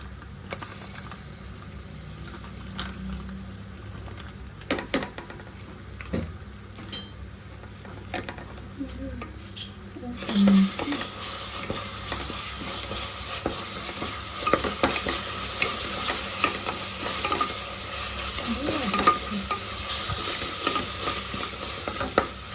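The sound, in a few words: onions sautéing in a pan, ginger added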